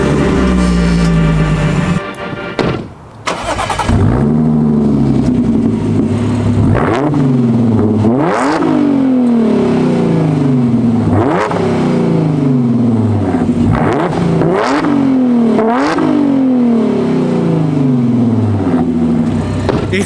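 A rebuilt Audi S4's engine revs repeatedly, roaring up and dropping back in a steady rhythm of about a dozen loud, close pulls, with no talking.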